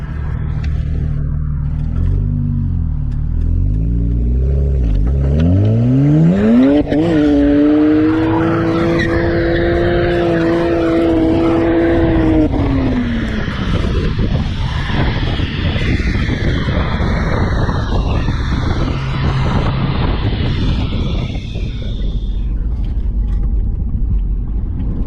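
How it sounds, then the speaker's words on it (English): A tuned 2000s BMW 335i E92 coupe with N54 twin-turbo engine pulls hard through a corner in third gear, engine note rising steeply then holding a loud sustained drone before easing off amid heavy road rumble and tire noise, heard from inside. "Quick, but that was a bit of a third gear pull there."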